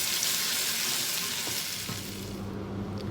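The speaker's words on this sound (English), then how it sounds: "Now just cook this paste on a medium flame till the oil starts oozing out" A paste of onion, gram flour and almond sizzles steadily in a pan on a medium flame, a continuous close frying hiss with faint clinks of stirring and no talk.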